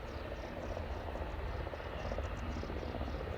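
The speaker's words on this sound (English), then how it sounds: "that helicopter is just turned straight away" A helicopter at Aberdeen airport gives a steady, distant rotor and engine drone that holds level and fills the background throughout.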